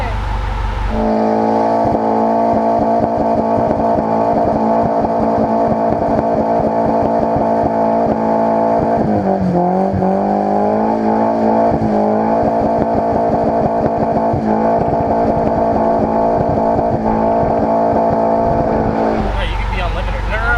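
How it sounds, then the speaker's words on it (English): A car held near full throttle while doing donuts, its engine droning loud and steady for about twenty seconds with brief dips in pitch midway, close and continuous throughout. "when you're doing donuts, you gotta like be almost full throttle almost all the time"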